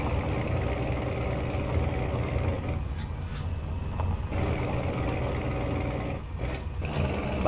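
A Scania truck hauls a heavy tri-trem tanker rig in the Amazonas region, its engine rumbling steadily up close. Brief dips in the drone mark gear changes.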